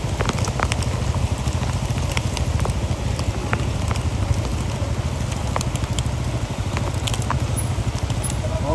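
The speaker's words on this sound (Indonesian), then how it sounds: "Tapi hujan terus." Steady rain falls on surfaces outdoors with a continuous dense hiss and scattered crackling drips, and a faint low engine-like rumble runs underneath throughout.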